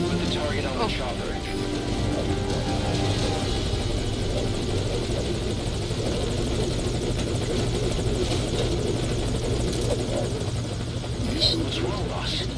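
A helicopter in Metal Gear Solid Ground Zeroes hovers at a landing zone, its loud, continuous rotor and engine drone filling the scene while voices talk over it.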